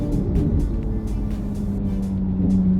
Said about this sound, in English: back in the 812, and this car is so noisy